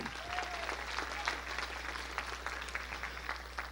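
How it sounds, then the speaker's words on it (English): A church congregation claps together in sustained, fairly faint applause, with scattered voices and a steady low hum underneath. "Give the Lord a good clap offering."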